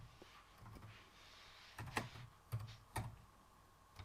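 A few quiet, scattered keystrokes on a computer keyboard while C code is typed, with three sharper clicks close together near the end and no talking.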